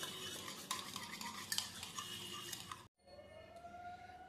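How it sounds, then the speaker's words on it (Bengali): Paneer mixed with sugar and salt is whisked briskly in a bowl, giving quick, close scraping strokes that stop abruptly partway through before a fainter stir resumes. "চিনি, পরিমাণ মতো নুন দিয়ে এবার এটাকে ভালো করে ফেটাবো"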